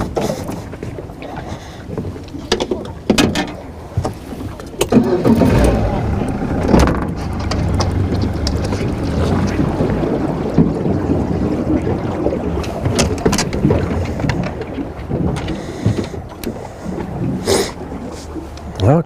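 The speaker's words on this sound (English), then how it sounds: "I think I'm gonna motor up and get back out in the middle." Boat motor revving as a small fishing boat heads back out to deeper water, mixed with heavy wind buffeting the microphone. The rumble is loud and uneven, with gusty bursts throughout.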